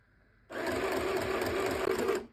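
A budget UFR 505 sewing machine winds thread onto its original bobbin, starting after a short pause as a steady, close, even motor whir with a faint rattle that runs for nearly two seconds and then stops.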